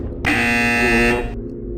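A robot in the Adrift visual novel video game gives one harsh electronic buzzing beep, about a second long, on its own.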